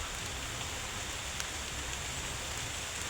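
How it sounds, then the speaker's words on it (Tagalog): Steady, dense rain pattering on surfaces, a continuous hiss with no voices. "Umuulan na mga tol. Nabutan na kami ng ulan."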